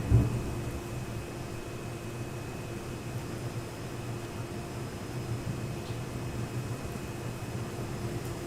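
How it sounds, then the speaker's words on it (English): Heavy rain pours steadily outside with a low rumble of thunder, a constant dense wash of sound that opens with a brief louder thud and keeps going without speech. "that rain is certainly coming down"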